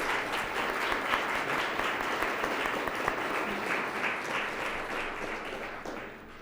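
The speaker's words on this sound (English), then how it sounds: "Let's give them another round of applause" An audience at a forum on electric, autonomous and green personal transportation applauds the guest speakers, steady dense clapping that holds evenly and fades slightly at the very end.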